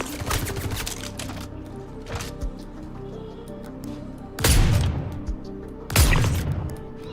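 Star Citizen gunfire snaps out in a few sharp bursts, an early cluster followed by two heavy, loud blasts spaced apart over a low rumbling game background.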